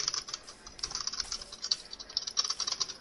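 A computer keyboard button is spammed rapidly to make a game character crouch, producing a fast, continuous stream of close, crisp key clicks and rattles with no talk.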